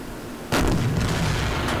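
A heavy naval gun fires in the Silent Hunter IV submarine game: a single loud blast at mid-clip with a rumbling tail that lingers, after near silence.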